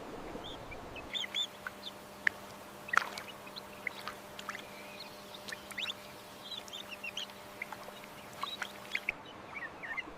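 A wood duck hen calls from the forest floor in short, scattered calls over a steady low hum, faint and somewhat distant, with irregular pauses between them.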